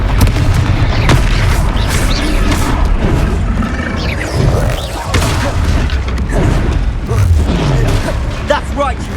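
Fiery Confringo blasting spells in the Hogwarts Legacy game, repeated booming explosions and crashes during a troll fight, loud and dense throughout, with character voices shouting over the combat.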